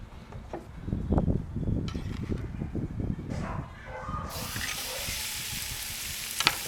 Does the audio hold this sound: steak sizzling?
yes